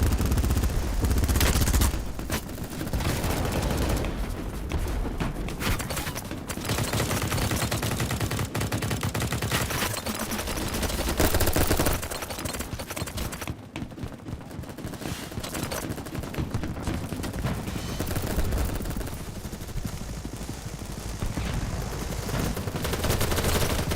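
Sustained gunfire in Battlebits, a busy battlefield of overlapping automatic bursts and scattered shots that stays loud and dense throughout, with brief lulls and no clear talking.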